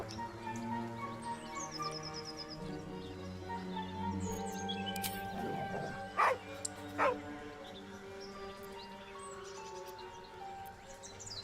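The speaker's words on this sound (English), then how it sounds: "Ini ada anjing." A dog gives a few short barks and yips partway through, two distinct bursts standing out over a steady hum of background noise and faint bird calls.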